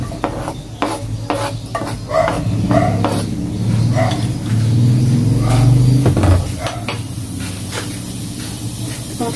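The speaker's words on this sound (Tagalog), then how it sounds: "Ngayon po, lagay na po natin yung ating isa't kalahating buong bawang." A whole head and a half of garlic hits a pan of oil left from frying pork, cooking for chicken and pork adobo. The oil gives a steady close sizzle and hiss, broken by stirring clatter from the pan.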